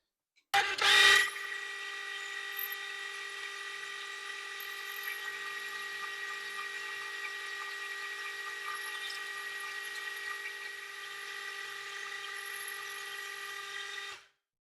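A metal lathe takes a light skim cut across a chuck backplate: a brief harsh burst at the start, then a steady, even high whine that holds for about thirteen seconds before stopping abruptly.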